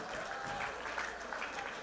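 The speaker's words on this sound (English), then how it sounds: "Can we get a big round of applause for them?" Audience applause after a school drama performance at a law school event, steady dense clapping from a crowd, fairly faint and distant, filling the short moment without a break.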